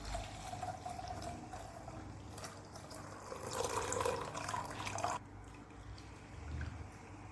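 Spiced sulaimani tea strained through a strainer, a faint, steady trickle of liquid pouring and dripping into a cup, quiet and close with no voices over it.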